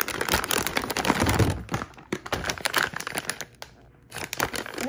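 Plastic Ziploc bag holding Trader Joe's coffee K-Cups crinkled and handled up close, dense continuous rustling with brief pauses.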